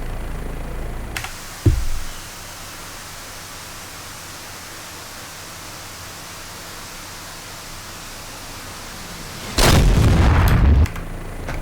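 An AGM-114K Hellfire missile launched from an OH-58D Kiowa helicopter in a flight simulator game: constant broadband rotor and cockpit roar, a brief thump, then a loud rushing launch blast lasting about a second.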